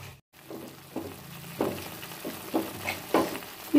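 Mint and rice for chitranna fry gently in a pan, with a soft sizzle broken by several spaced spatula taps and stirring scrapes, fairly quiet and without any voices.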